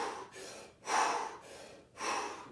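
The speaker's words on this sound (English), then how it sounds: "big, full, fast breaths, 30 power breaths" Big, fast, full breaths of Wim Hof power breathing, heard as loud rhythmic inhales and exhales close to the listener, about two and a half breath cycles with no talking.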